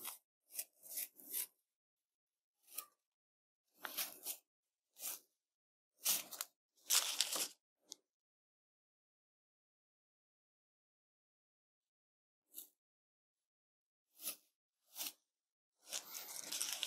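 Masking tape being peeled away from the edges of a finished watercolor and gouache farm road painting, heard as a series of short, close tearing and rasping strips separated by silent pauses, with a denser burst of peeling at the end.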